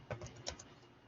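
Keys tapped on a computer keyboard during setup of an STM32 board flashing session, a few quick soft clicks in a short burst, close and fairly quiet, with no voice.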